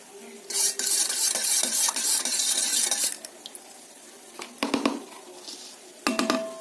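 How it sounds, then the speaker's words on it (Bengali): A spoon stirs powdered milk into a paneer mixture in a pan, scraping steadily and continuously for a few seconds over a faint sizzle, then dropping to a few separate clinks and scrapes against the pan. "দু চামচের মতন গুঁড়ো দুধ এর সঙ্গে মিক্সড করে দেবো"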